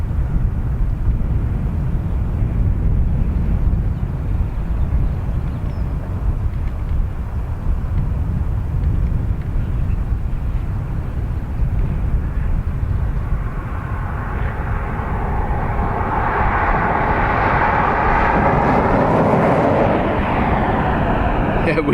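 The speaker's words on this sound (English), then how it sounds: "And then we have our ATR due to land." An ATR turboprop airliner lands at Dublin Airport, a loud, steady engine roar that builds into a rising, whining propeller drone near the end as the aircraft passes close.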